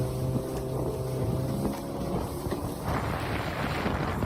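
A motorboat roars steadily at speed, with rushing water and wind buffeting the microphone throughout.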